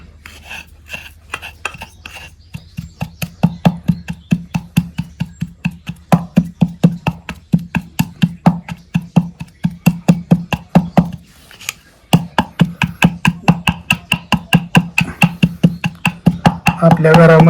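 Castor seeds pounded by hand to press out oil, a steady run of sharp, close knocks at a brisk even rhythm, with one short pause midway before the strokes resume.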